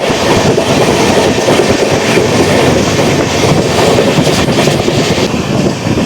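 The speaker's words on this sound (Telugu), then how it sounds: "అంబత్తూరు స్టేషన్ చూడండి ఎంత స్పీడ్గా స్కిప్ చేస్తుందో" Loud, dense rumble and rattle of an express train rushing through Ambattur station without stopping, continuous clickety-clack with no let-up.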